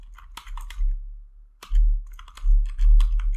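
Keys on a computer keyboard are typed in short bursts of close, crisp clicks with a brief pause between groups, no voices present.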